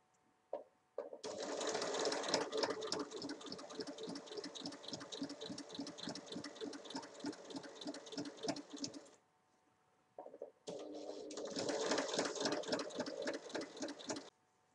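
A sewing machine stitches into the fold of an elasticated napkin, whirring steadily and rhythmically up close for about eight seconds, pausing briefly, then running again for a few more seconds.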